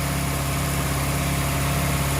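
A Morris Minor engine idles after a cold start, following a carburettor rebuild. It makes a steady, close, even hum with no talk.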